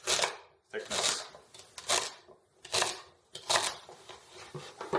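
Knife chopping celery on a cutting board in a home kitchen while making chicken stock, several crisp, separate cuts in an uneven rhythm, close and fairly clear.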